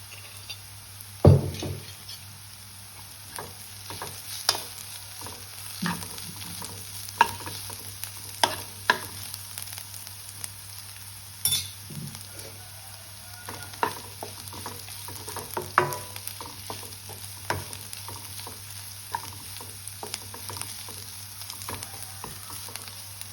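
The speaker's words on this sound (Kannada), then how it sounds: "ಫ್ರೈ ಆಗ್ತಾ ಇರಲಿ ಫ್ರೆಂಡ್ಸ್" Ginger garlic paste fries with onion and tomato in a pan for home-style aloo gobi, with a low sizzle under intermittent spatula scrapes and taps over a steady background hum.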